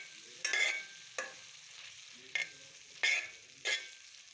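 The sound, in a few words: minced beef sautéing in a pan with onion, garlic, ginger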